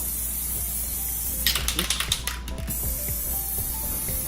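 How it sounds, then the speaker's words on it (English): A spray can hisses in a few short bursts of paint onto a water surface for hydro dipping, over steady background hum and faint clicking, each spray lasting under a second. "All right, so I'm done spray painting the water"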